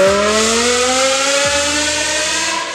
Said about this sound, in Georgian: როცა M5-ის ძრავა 8000 ბრუნს აღწევს